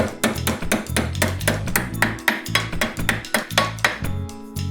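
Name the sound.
hammering a car radio part flat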